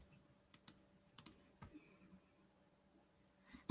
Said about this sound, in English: This is the clicking noise.